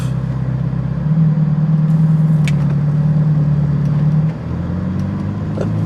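A Ferrari engine idles loudly and then pulls away, a steady low drone that rises in pitch and strength before dropping as the car moves off, with faint clicks over it.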